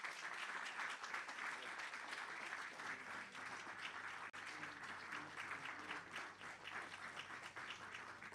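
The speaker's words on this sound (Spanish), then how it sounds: "Le damos un aplauso." A church congregation applauds together in a dense, steady wave of clapping that holds at even strength for about eight seconds, with a faint murmur of voices underneath.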